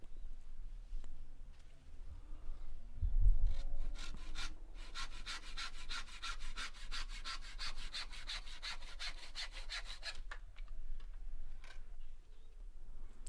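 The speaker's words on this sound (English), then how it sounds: "And then just cut off the excess." A handsaw cuts through pallet wood to trim excess off cladding over an old fence panel, a steady rhythmic rasp of strokes running for about ten seconds, close and alone with no talk.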